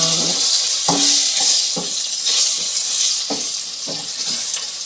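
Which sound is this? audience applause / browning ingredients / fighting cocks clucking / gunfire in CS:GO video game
browning ingredients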